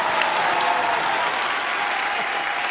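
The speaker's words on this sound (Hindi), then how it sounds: "इस बात के लिए जोरदार तालियां।" A studio audience at a comedy talk show breaks into loud, sustained applause, an even wall of clapping from start to end with no speech over it.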